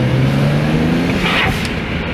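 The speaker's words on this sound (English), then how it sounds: "Try to hit that blow off valve" A BMW 335i fitted with a Tial blow-off valve revs loudly from inside the cabin, its engine droning steadily before a brief airy hiss of venting as the throttle lifts.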